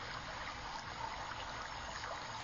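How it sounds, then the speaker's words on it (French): A shallow river about two metres wide, lined with trees, winds through a meadow, giving a steady, soft rushing and trickling of water that stays even and fairly quiet throughout. "Il s'agit d'une rivière, un modeste cours d'eau de 2 mètres de large environ"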